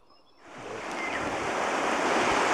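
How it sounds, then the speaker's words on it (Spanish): Strong wind blows outdoors beside a river ahead of a storm, rising within half a second into a loud, steady roar that buffets the microphone, with no voices. "El viento también importante de abajo."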